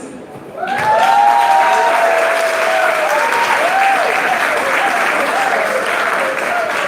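Parents and guests at a pre-K school leaving exercise break into loud, full applause after a song, and the clapping swells and holds steady with some cheering and voices mixed through it.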